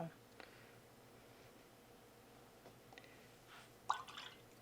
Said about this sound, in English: the brush is cleaning off in the water very easily